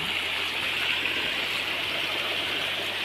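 Water runs down a small earthen field channel beside a farm plot, a steady, soft rushing and trickling that stays even and moderately close throughout, with no voices.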